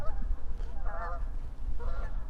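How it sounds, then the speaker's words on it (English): Two bursts of goose honking from flying geese, a few calls each, heard moderately close over a low rumbling background in winter. "Look, these little flying geese."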